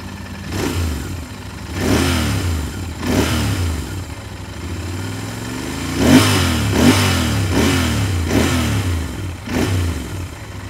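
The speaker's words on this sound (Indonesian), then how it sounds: "suaranya khas banget Moge yang 2 silinder, teman-teman" Royal Enfield Interceptor 650 fuel-injected parallel-twin motorcycle with a 270-degree crankshaft, idling with a lumpy throb and blipped repeatedly, about seven sharp revving bursts rising and falling close by.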